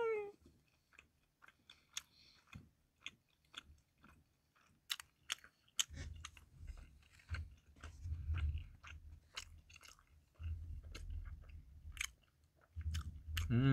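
Korean rice cake (tteok) is chewed close to the mic, soft sticky bites and mouth sounds repeating irregularly, faint overall with brief pauses and some low breathy noise.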